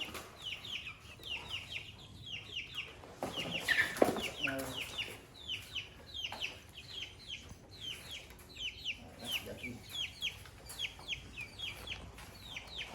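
A group of chickens clucks continuously close by, short repeated calls overlapping in a busy rhythm, with occasional bumps and rustling.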